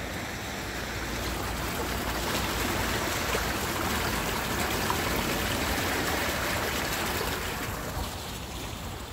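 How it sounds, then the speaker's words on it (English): Water rushing steadily through a roadside drain, a continuous broadband flowing hiss that stays loud and even throughout with no voices. "can you hear that drain flowing?"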